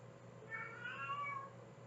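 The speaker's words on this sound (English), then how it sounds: "You sound so sad, Kitty." A pet cat lets out a single drawn-out, plaintive meow, faint and alone against a quiet background hum.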